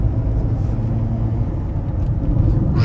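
A Toyota Auris car engine accelerating, a steady low rumble with a faint hum, heard close and fairly loud throughout.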